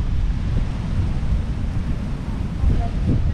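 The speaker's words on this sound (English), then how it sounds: "It's windy, man." Strong wind buffets the microphone outdoors in Vaimaanga, Cook Islands, with storms around, a constant low roar and rumble throughout, no clear voices standing out.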